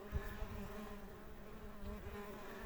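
Osmia cornuta mason bees buzz around their hives in a steady, close, continuous drone with overlapping wingbeats and no talking.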